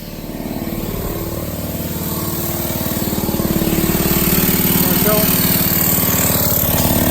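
An air-driven diaphragm pump for a soft wash pressure cleaning rig starts up and runs with a rapid, steady mechanical pulsing thump that grows louder, with a voice talking faintly underneath.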